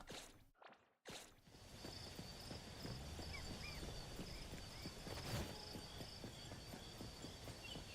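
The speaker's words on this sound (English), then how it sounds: "It's just very, very subtle for the footsteps." Subtle footsteps of a character walking in the NTE video game with the music switched off, a steady run of soft, quiet steps beneath a constant low game ambience, with no talking.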